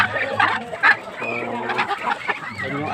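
Large chickens at a backyard coop cluck and squawk close by in a busy, overlapping chorus, with short sharp calls over steady low murmuring.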